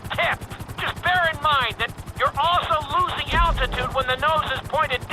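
A helicopter in Grand Theft Auto V flight school, heard from first person: a steady, rapid rotor chop pulsing evenly throughout, loud and close, with a voice talking over it almost continuously.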